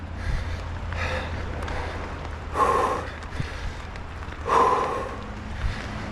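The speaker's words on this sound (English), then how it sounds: "A lot of breathing." Heavy breathing from someone climbing: two loud, forceful exhales, each like a snort or sigh, stand out above a low background rumble, with fainter breaths between them.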